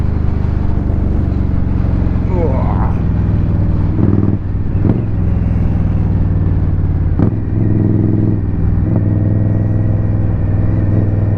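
An Indian Scout Rogue motorcycle on a morning commute to work, a loud steady engine drone with wind rumble throughout, marked by a few brief shifts in engine pitch, with no talk.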